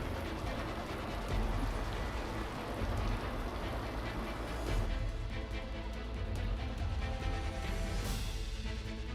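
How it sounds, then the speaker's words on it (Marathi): Heavy monsoon rain pours down in Navi Mumbai, a loud, continuous broadband roar of water that stays dense and unbroken throughout, with a few brief surges near the end. "नवी मुंबईतही मुसळधार पाऊस बरसलाय"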